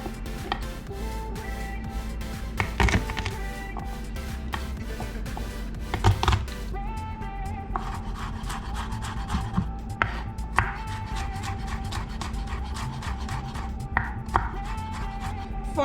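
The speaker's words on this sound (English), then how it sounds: "I have here 4 cloves of garlic, so we want to get them finely chopped." A knife chops four garlic cloves finely on a cutting board in fast, crisp, rhythmic taps, pausing briefly and then resuming in a steady quick run of close, clear strikes.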